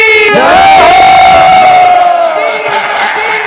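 A large crowd at a Kali Mata festival in Bemetra raising a loud collective cheer and shout, sustained and close, with a prominent voice leading over the roar.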